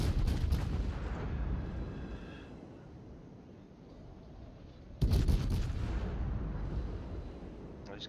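Two loud naval gun salvos from the Des Moines warship striking the Tirpitz in a naval battle game, each a sharp boom followed by a long rumbling decay, about five seconds apart.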